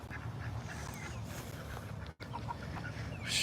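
A neighbor's backyard flock of ducks and chickens with a rooster, steady clucking and quacking at moderate distance over a busy outdoor background, with no talking.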